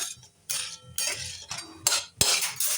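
A spoon scraping and clinking against a kadhai while coconut filling for modak is stirred, several short bursts in quick succession, close and fairly loud with no talk.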